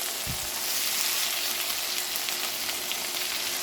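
Peppers and onions sizzle steadily in a hot pan for fajita cheeseburger filling, a close, continuous frying hiss with a brief stir near the start and no talking.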